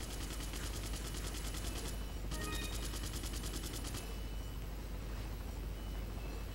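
Rapid gunfire from Resident Evil 4 during a chopper aerial assault, dense bursts crackling steadily under continuous game noise, with a short gap midway before firing resumes.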